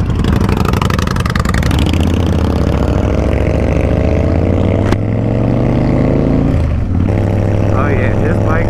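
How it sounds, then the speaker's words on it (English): A friend's motorcycle engine idles steadily and loudly close by, its throbbing drone holding for several seconds before the pitch briefly sags and then recovers. "his bike sounds a lot better"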